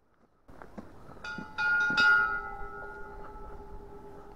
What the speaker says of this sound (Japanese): 鐘の音が聞こえる。